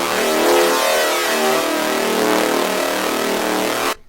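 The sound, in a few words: detuned saw wave synth with FM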